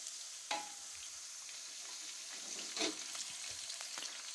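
Raisins frying in oil over a low flame for chicken kabuli pulao: a steady, faint sizzle with a couple of soft stirring clicks, no talking.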